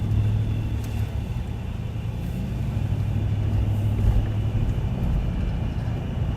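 A Hemi-engined car idles with a steady, low rumble that fills the whole stretch, close and unbroken, with no talk over it.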